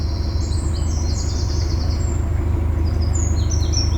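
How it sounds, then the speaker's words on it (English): High, repeated bird trills and chirps ring out over a constant low hum of distant traffic beside the Shropshire Union Canal, with no talking. "It's all very, very quiet apart from the bird noise."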